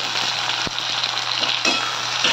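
Chopped onion fries in a pan with a dense, even sizzle up close, marked by a few soft scrapes of a spoon against the metal.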